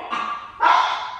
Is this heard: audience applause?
no